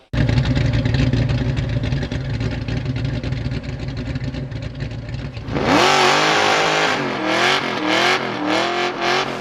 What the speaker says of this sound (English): I still went with the Ford Racing E303 cam just because I think that just sounded perfect. It's the lumpy idle that I wanted